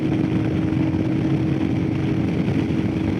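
A 2021 Royal Enfield Himalayan BS4 motorcycle runs at full throttle while climbing a hill, giving a loud, constant engine drone with a steady low hum and rumbling wind noise throughout and no pauses or voices.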